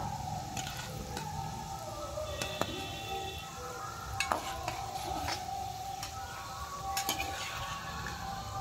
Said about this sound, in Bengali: মিষ্টিটাকে হালকা একটু ভেজে নেওয়ার পর এবার আমি উল্টে পাল্টে ভেজে নেব।